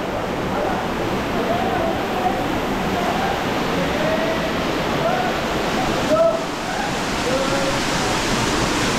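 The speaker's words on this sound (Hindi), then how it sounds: "यहाँ बहुत अधिक पानी की आवाज़ आ रही है" Loud rushing water fills a rock cave used as a robbers' hideout, a steady dense roar with faint voices underneath throughout.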